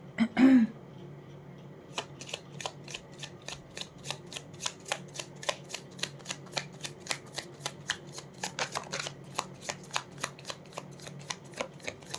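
Tarot cards riffle and flick in a long run of quick, crisp taps after a brief thump, steady and close with no talking over them.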